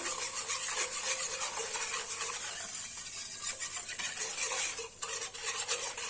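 A spoon scrapes and stirs starch and sugar around the inside of a pot in steady rubbing strokes, soft and close, with a faint sizzle beneath.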